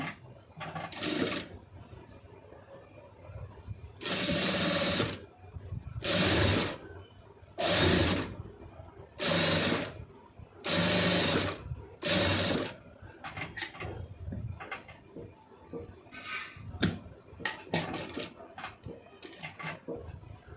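A sewing machine stitches a neck design in repeated bursts of rapid whirring, each a second or two long, separated by pauses filled with small clicks and handling noises.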